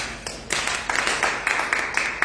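Audience clapping at a Hindi-language Christian sermon, a steady patter of many hands building from about half a second and continuing in uneven bursts, moderately loud and fairly close.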